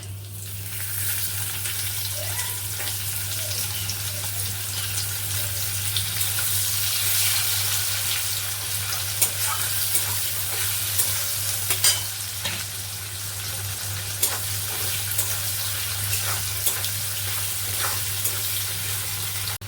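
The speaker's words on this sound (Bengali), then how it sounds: "এর মধ্যে আমি ফোড়নে দিচ্ছি হচ্ছে গোটা জিরে, তেজপাতা, কুচানো পেঁয়াজ" Whole cumin, bay leaf and chopped onion tempering in hot oil, a loud, continuous close-up sizzle with scattered crackles and stirring clicks, under a constant low hum.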